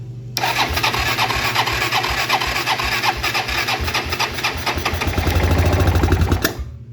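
A Kawasaki four-wheeler engine catches on starter fluid, firing up at once and running with a loud, rapid, uneven putter that swells and roughens near the end before cutting off abruptly.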